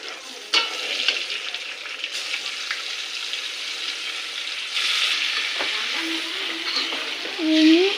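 Beef pieces for a Bengali beef curry, seasoned with salt and chili powder, fry and sizzle steadily in a pan while being stirred. Scraping and clinking of the utensil sound up close over the constant hiss.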